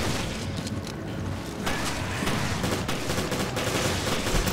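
Sustained gunfire in the video game Resident Evil Revelations, a dense, loud run of rapid shots and bursts with mechanical clatter over a continuous game soundscape.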